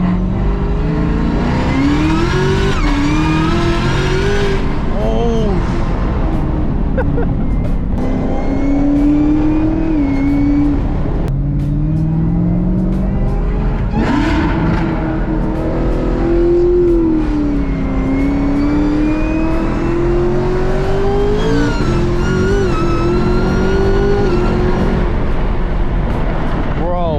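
A muscle car accelerates hard, its loud engine rising and shifting through gears in repeated climbing revs heard from inside the cabin, with excited voices talking over the roar.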